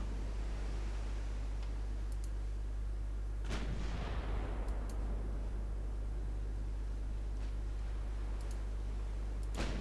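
Battleship broadside firing in the naval game Ultimate Admiral: Dreadnoughts: one heavy, sharp boom with a rumbling decay over a constant low engine drone, plus a few faint distant reports and clicks.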